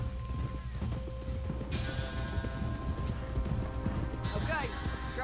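Horse hooves clip-clopping in Red Dead Redemption 2 game audio, a steady trotting rhythm under dense game sound with a whinny-like call near the end, while a person talks over it.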